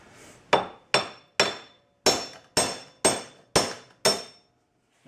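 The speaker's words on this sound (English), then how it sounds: "back to the old standby in a vise and a hammer" Eight sharp metallic hammer blows ring out at an even pace on a car part clamped in a vise during front-end work on a 2004 Jaguar S-Type, each strike close and loud with a short ringing decay and no talking.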